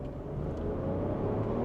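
A Nissan Rogue Rock Creek engine holds a sustained high-revving drone near red line, steady and fairly quiet throughout, heard from inside the car.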